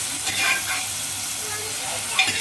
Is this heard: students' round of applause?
no